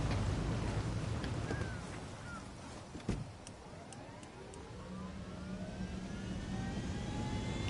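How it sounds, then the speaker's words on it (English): Airplane engine droning in Ghost Recon Wildlands, a steady broadband roar throughout with rising and falling whine tones, a brief louder thump near the middle, and no talk. "I'll take you off some sweet jumps in the plane."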